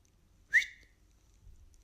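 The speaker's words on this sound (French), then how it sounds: "un bref et léger coup de sifflet retentit" A single short, light whistle blast, a quick rising chirp that rings out briefly and fades against near silence.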